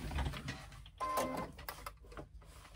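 A sewing machine runs in a steady mechanical burst as it stitches a double row, close and fairly quiet, with brief pauses between runs.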